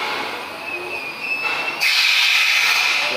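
Train passing close by at Jaguariúna, a steady loud rumble with a high metallic wheel squeal that swells suddenly louder partway through and stays strong to the end.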